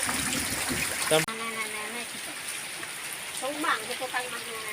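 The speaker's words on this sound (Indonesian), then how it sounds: "Ini suasana hujan di kampung, teman-teman." Steady heavy rain patters and hisses outdoors in a village with trickling floodwater, a sharp knock near the start, and faint voices mixed into the downpour.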